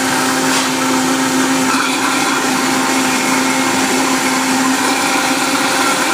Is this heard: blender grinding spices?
yes